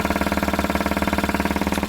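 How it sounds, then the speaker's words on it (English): A homemade compressed-air engine with a slight air leak, revving at high speed, producing a loud, rapid, even pulsing buzz of regular beats, close by and alone without talk. "I think that's one of the highest revving compressed air engines that you'll see"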